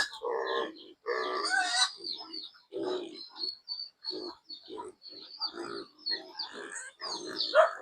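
Pigs grunt and snort in short repeated bursts, close and fairly loud, with occasional higher squeals among the low rhythmic grunts.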